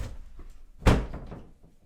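A house door is checked and locked, with a single solid thunk or latch clunk midway through, close by, among quieter handling noises and no speech.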